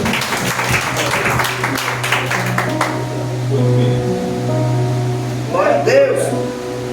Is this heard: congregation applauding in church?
yes